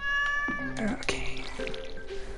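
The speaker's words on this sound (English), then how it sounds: "The cat." A cat in the video game Stardew Valley lets out a few drawn-out meows, one wavering and whiny, close and clear over soft background game sounds.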